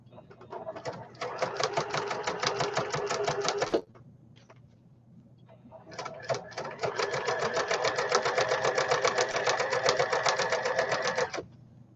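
A sewing machine stitches natural canvas in two long runs of rapid, even mechanical clatter, with a short pause between them for turning a corner, close and fairly loud.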